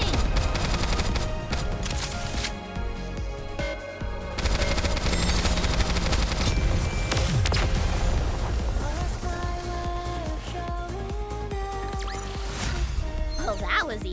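Rapid automatic gunfire in Goddess of Victory: Nikke, with dense bursts and impacts over game music and voices.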